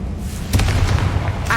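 Confringo fire-blast spell in Hogwarts Legacy, a loud booming burst that swells into a roaring, rumbling blast lasting about a second.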